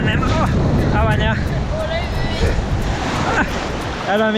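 Surf waves roll and wash steadily onto a surf beach at Playa Maderes, Nicaragua, a constant loud roar with wind on the microphone and voices talking over it.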